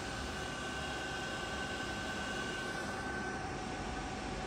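A Van Norman No. 24 universal milling machine with its spindle turning at 395 rpm, giving a steady, continuous mechanical hum and whine with a constant tone and no pauses, close by.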